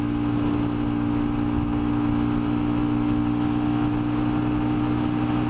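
A Royal Enfield Scram motorcycle pulls uphill in third gear at about 62 mph, its engine holding a steady drone under heavy rushing wind noise throughout.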